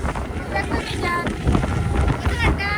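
Strong wind roars and buffets steadily on a boat out at sea off the Konkan coast, with a low rumble of water and hull underneath.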